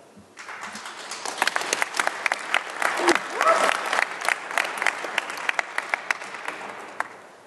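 Audience applause at the Pwnie Awards during Black Hat USA 2014, a crowd of hands clapping in a hall, rising quickly then sustaining with sharp individual claps standing out, fairly close and loud.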